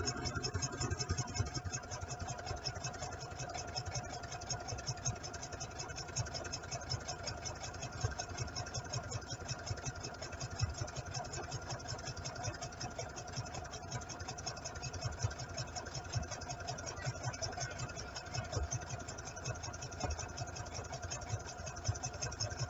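A sewing machine runs steadily while stitching the edge of a raglan T-shirt, a continuous, fairly faint mechanical whir with a fine rapid needle rhythm that never pauses.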